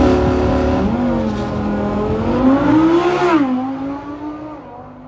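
A race car at the Canberra Festival of Speed roars close by, its engine note climbing and dipping as it revs and accelerates hard, then fading slightly as it pulls away.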